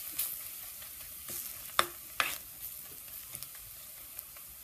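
Three teaspoons of coriander powder frying in a pan for duck curry, a soft, steady sizzle punctuated by a few sharp scraping stirs of a spoon.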